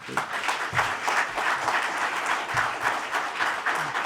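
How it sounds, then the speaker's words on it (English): An audience at a Bloomberg Defense Medal ceremony applauds Secretary of Defense Lloyd Austin with a full, even roar of clapping that holds steady the whole time, a few sharper claps standing out nearby. "A big round of applause for him."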